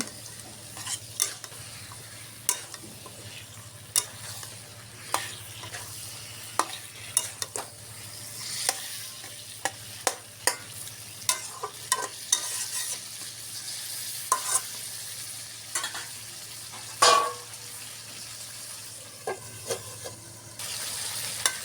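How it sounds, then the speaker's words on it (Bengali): Pangas fish pieces fry in spices while a spoon stirs them, giving sharp, repeated scrapes and clacks against the pan over a soft, continuous sizzle, close up and without talk. "মাছগুলো দিয়ে দিলাম, একটু নেড়ে চেড়ে ভালো করে কষিয়ে নিব"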